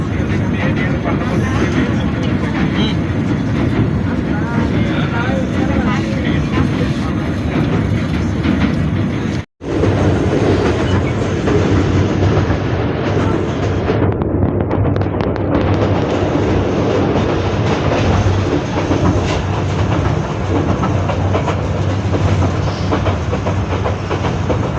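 A passenger train running from Sylhet to Dhaka roars steadily on the rails near the Bhairab area, a loud continuous rumble with clattering wheels and wind noise, briefly cut once, then carrying on without a break.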